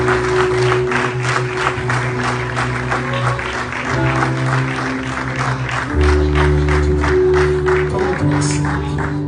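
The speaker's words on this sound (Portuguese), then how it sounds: "Aplauda o Senhor Jesus" Church congregation applauding during a worship service, dense continuous clapping at steady volume over sustained organ or keyboard chords.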